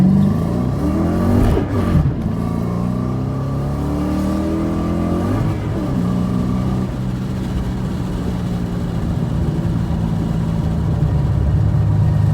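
Car engine revving hard through power shifts, rising in pitch then dropping abruptly at each gear change around the first seconds, followed by a sustained steady engine drone; loud and close with no talking.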